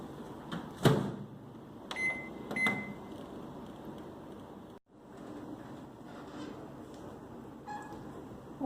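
A microwave oven hums steadily while garlic rasam cooks inside, a soft, even drone with a few light clicks and knocks near the start and a brief dip midway.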